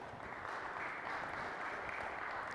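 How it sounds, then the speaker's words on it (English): Audience applause for a speaker at a Microsoft Ignite technology conference, sustained clapping from a large hall, heard faint and distant and steady throughout. "So big round of applause for Dugan, please"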